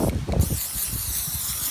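An aerosol spray paint can hisses in a steady, continuous spray while painting an earth-and-moon design, after a few short clicks and rattles at the start.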